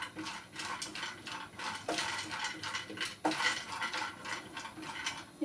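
Already-roasted peanuts being stirred and reheated in a metal pan, with a steady scraping rattle of nuts and spoon against the metal and a few sharper clanks, close and fairly loud, with no voices.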